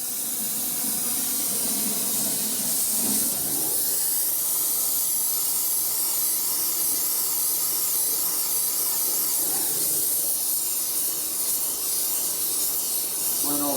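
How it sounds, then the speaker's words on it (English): A cheap Harbor Freight torch flame hisses steadily and loudly up close while heating chrome on a 1957 Harley panhead drag bike part, with a faint voice briefly under the roar. "chrome turns all blue, it's probably hot enough. Piece of crap torch."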